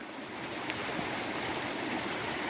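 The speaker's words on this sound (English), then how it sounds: "here we see stream of water" A stream of water flows steadily along a trekking trail near Kotagiri in the Ooty hills, a continuous broadband rushing that stays close and even throughout, with no talk over it.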